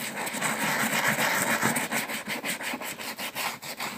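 A stiff brush works over a greased leather shoe in quick, rhythmic back-and-forth strokes, a close, dry scrubbing rasp that keeps going without pause and with no voices.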